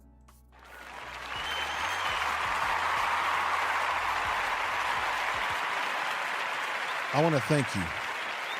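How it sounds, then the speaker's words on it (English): An audience applauds at a post-game event for Colorado against Oregon State, a dense wash of clapping that swells in after a second and holds steady, with a voice briefly speaking over it near the end. "I want to give it all a great, great clap"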